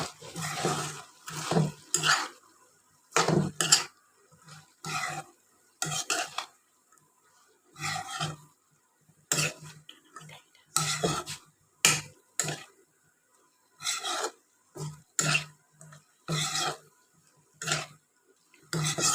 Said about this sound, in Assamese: লগতে দি দিম এই শুকান মাছখিনি আটাইখিনি ভালদৰে লৰাই দিম